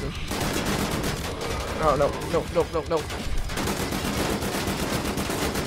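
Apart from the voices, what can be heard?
gunfire from dual-wielded guns in video game Wolfenstein The New Order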